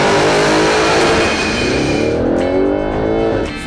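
An Audi RS6 fitted with an Akrapovic exhaust revs loudly and close, its engine note rising and falling through a few hard throttle blips before easing off at the end.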